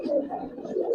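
A white-beaked Kaldam pigeon gives soft, low coos, a faint, gentle rolling murmur of a few short pulses close by.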